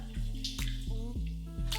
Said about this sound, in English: I'm just going to add a bit of boiling water.